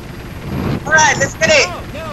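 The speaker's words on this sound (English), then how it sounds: "Get away from that helicopter." A helicopter in the Operation Flashpoint: Dragon Rising video game throbs with a low rumble and rotor noise, mostly buried under people talking over it.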